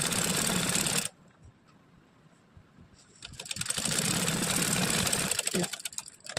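Sewing machine stitching around the neck of a blouse, running in loud rapid bursts with a brief quiet pause in between, close by.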